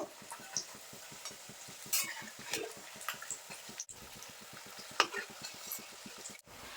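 Potato and cauliflower chops deep-frying in oil, a fine steady sizzle and bubbling broken by occasional turning clinks and scrapes, with two sharp brief dropouts.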